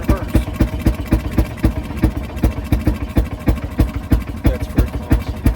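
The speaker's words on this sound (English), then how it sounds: "It's running in reverse now." A Fairmont M19 speeder rail car engine runs in reverse, its steady rapid single-cylinder pops thumping evenly and close throughout, with a voice briefly audible over it.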